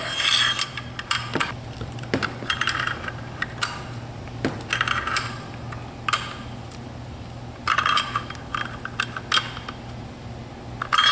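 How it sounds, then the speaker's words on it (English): A wrench tightens the collar on a Kel-Tec SUB-2000 receiver. Faint, irregular metallic clicks and ticks come at close range, some in quick clusters and others spaced apart, over quiet background. "Now we're going to take our wrench and just tighten it right up."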